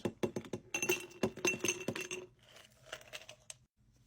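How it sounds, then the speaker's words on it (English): Ice cubes tumble into a mixing glass for a rye Manhattan, giving a quick run of bright clinks and rattles that settle into a few fainter knocks near the end. "Let's get some ice in a mixing glass."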